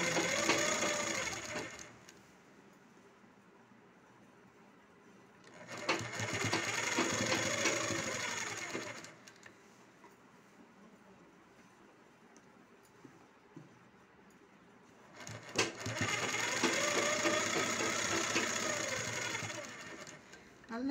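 Three bursts of a sewing machine stitching a blouse come through, each running a few seconds with a fast mechanical whir. Quieter gaps fall between them, with a soft voice speaking in the pauses.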